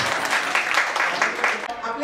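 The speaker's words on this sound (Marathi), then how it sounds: "टाळ्या वाजवा." Audience applause at an award ceremony at a Mumbai Port Authority hospital celebration, a steady dense wash of clapping lasting a couple of seconds and thinning out at the end.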